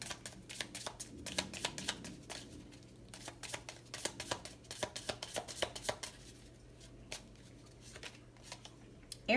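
Tarot cards are shuffled close up in quick, irregular bursts of soft riffling and tapping, quiet and continuous with brief pauses, and no talking over them.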